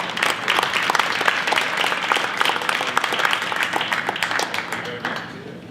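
Banquet guests at an awards dinner applaud the auction's sponsors and vendors, a dense roomful of clapping that holds steady and then tapers off toward the end.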